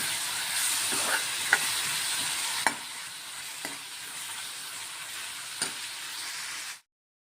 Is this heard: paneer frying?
yes